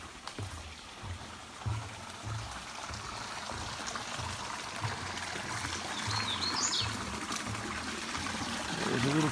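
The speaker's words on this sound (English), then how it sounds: "There's a little creek and it's nice and clear." A small, clear creek trickles steadily and softly beside a hiking trail on a warm day, with faint birdsong in the background and no talking.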